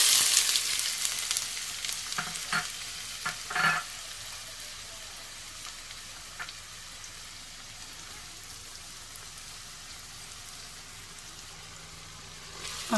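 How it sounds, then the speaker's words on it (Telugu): Onions hitting hot oil in a pan for village-style fish curry, a bright hiss and crackle at first that settles into a steady, quieter frying sizzle with a few louder pops early on. "చూడండి ఫ్రెండ్స్, ఆయిల్ మరిగిపోయింది. ఇప్పుడు ఆనియన్స్ వేసుకుందాము."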